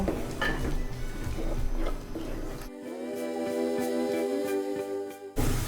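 Cumin paste frying with shrimp in a pan, a sizzling hiss with metal utensil scrapes and clinks against the pan, which cuts off abruptly midway into a quieter stretch of soft clicks.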